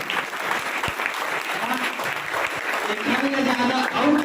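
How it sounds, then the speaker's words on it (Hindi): An audience claps at an interview celebration, a sustained wash of applause with a few voices mixed in. "ज्यादा और ताली बजना चाहिए"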